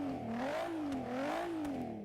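Porsche twin-turbo V6 engine in the Forza Horizon 3 racing game, a smooth mid-pitched drone whose tone rises and falls in gentle waves as the revs swing up and down, loud and continuous without speech.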